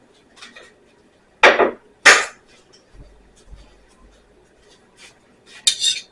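A cast iron skillet handled on a stovetop, a few sharp metallic clanks and knocks spaced out, close by, with quiet gaps between.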